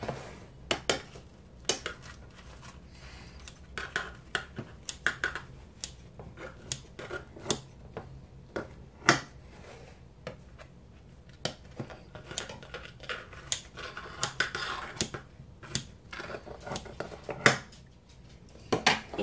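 A knife slices through carne machaca sincronizadas filled with melted cheese on a plate. Sharp clinks and scrapes of metal on the plate come in irregular bursts, fairly close and fairly quiet, with long pauses between them.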